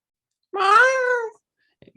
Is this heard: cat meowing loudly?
yes